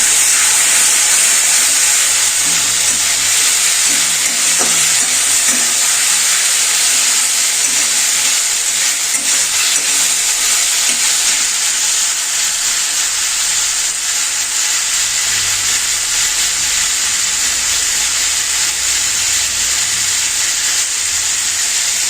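Ground mustard paste sizzling in hot oil in a pan for a bata fish curry, giving a loud continuous hiss that holds steady throughout with faint low kitchen rumbles beneath, no voices.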